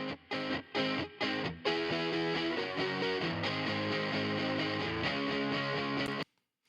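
Electric guitar runs through an RS127 processing effect, giving a thick, distorted, chorused tone. A few clipped chords come first, then a sustained ringing passage that cuts off abruptly at the end.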